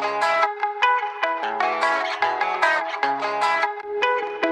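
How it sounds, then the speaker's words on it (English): Music through a radio audio effect preset: a thin, mid-heavy mix with little low bass, rhythmic chords and punchy hits, steady and moderately loud, with no voices over it. "So now I'm going to take you through the radio effect."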